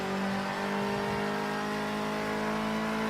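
A Ginetta G40 Junior race car in Project Cars 2 holds sixth gear on Sakitto GP, a loud, sustained engine drone at a steady high pitch that stays close throughout.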